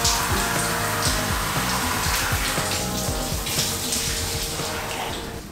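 Steady, loud rush of shower water spraying continuously, with a dense hiss and no pauses throughout.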